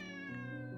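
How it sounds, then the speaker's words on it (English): A pet cat at home gives a single clear, drawn-out meow, close and alone with no talking. "That's my cat. I have 2 cats."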